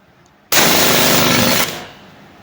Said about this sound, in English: Auto fire. First shot.